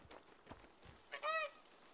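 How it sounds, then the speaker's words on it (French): A goose honks once, clear and mid-loud, in the video game A Plague Tale: Innocence, a short nasal call standing out over faint game ambience and quiet background sounds. "Oh, une oie."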